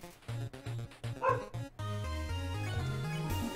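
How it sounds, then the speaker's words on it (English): Cartoonish dog barks from the Undertale video game, short repeated yips in a bouncy rhythm over game music, followed by a steady melodic music passage. "My dogs are being curious if you can hear that."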